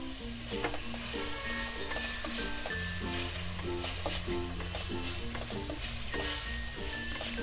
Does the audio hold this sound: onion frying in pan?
yes